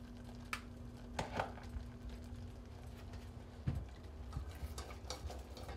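A spoon stirs pepper into hot Alfredo sauce in a pan, making a few sparse, quiet taps and scrapes over a faint background hum.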